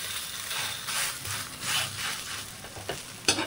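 A taco tortilla frying in a pan after being flipped, giving a steady close sizzle with swelling bursts and a few sharp scrapes or crackles toward the end, and no voices.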